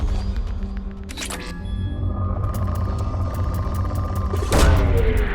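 Probe launch in the Mass Effect game: a heavy mechanical boom and rumble near the start, a sustained hum, then a second loud thump with rising whoosh toward the end, close and alone.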